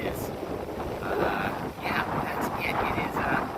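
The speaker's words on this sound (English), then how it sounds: "Just to give you an idea of how windy it is" Steady, loud wind of about 15-20 miles per hour buffeting the microphone outdoors, a continuous rumbling roar with gusty surges and no speech.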